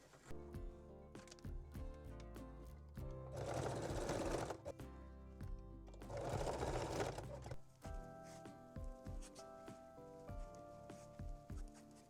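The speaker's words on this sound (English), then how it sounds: "the last thing we need to do is to thread and sew the straps" A sewing machine stitches the straps of a lace bralette in two sustained runs of steady mechanical whirring, with quieter clicks, handling and thread-pulling sounds between and after.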